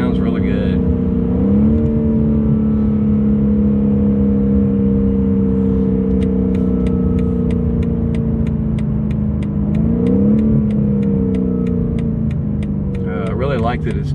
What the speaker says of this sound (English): Car sounds really good.